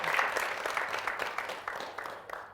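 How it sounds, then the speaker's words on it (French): Audience applause on a Valentine's Day couples' game show, a brief burst of many hands clapping that gradually thins and fades toward the end. "applaudissements très forts pour elle, s'il vous plaît"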